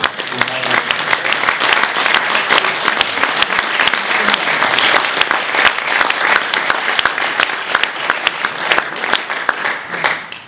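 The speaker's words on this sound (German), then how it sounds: "Und ich glaube, das ist erstmal ein Applaus wert." Loud, dense applause from an audience at a 2015 award ceremony, sustained clapping from many people in a room that carries on without a break for the whole stretch and eases slightly near the end.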